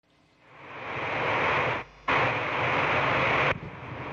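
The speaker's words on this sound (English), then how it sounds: "we have liftoff of the Soyuz rocket, delivering a Progress vehicle" A Soyuz rocket carrying a Progress cargo vehicle lifts off from Kazakhstan with a broad, steady roar that builds over a second and a half, drops out briefly, then returns at full strength, heard with no talking.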